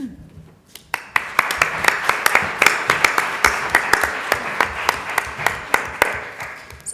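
Audience at a housing summit panel on economic mobility applauding the panelists, steady clapping that starts abruptly after a brief pause and continues at full volume.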